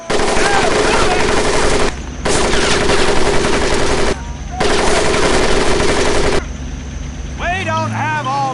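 Loud sustained machine gun bursts ring out at a boot camp training course in the video game Medal of Honor: Pacific Assault, three long continuous volleys with brief gaps, followed by a drill instructor shouting over the range.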